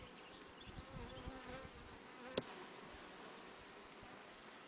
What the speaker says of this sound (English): There are many bees here.